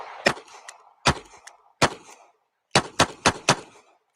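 Sharp, loud revolver shots from a Smith & Wesson 327 .357 Magnum snub nose at a shooting range, several single reports with short echoing tails, ending in a quick string of four shots.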